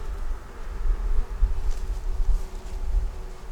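Honey bees hum in a low, continuous drone around a hive during a winter check, when dry sugar is given as feed. The buzzing swells and dips softly, with no talking.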